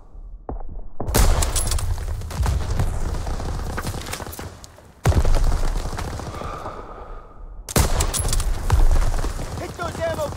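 Dense, rapid gunfire from Call of Duty: WWII rattles in sustained volleys aimed at ammo caches, breaking off twice before resuming loudly amid battlefield noise.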